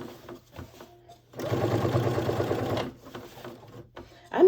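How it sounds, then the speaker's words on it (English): A sewing machine stitching an iron-on patch onto a denim tote bag: one steady, close mechanical run of rapid stitching lasting about a second and a half, framed by quiet handling noises. "So I'm going to go ahead and sew down the patch, go all the way around."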